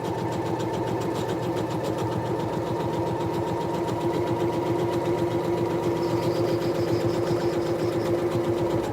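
A sewing machine runs steadily, stitching the outside panel of a tote pouch, with a smooth, fast mechanical chatter that holds at an even, close-up level throughout.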